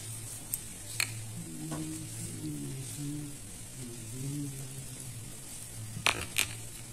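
Turmeric, salt, cumin and Kashmiri red chili powder are stirred into water in a pan for koi fish curry, a soft continuous scraping swirl close by with a few sharp metallic clinks of the utensil.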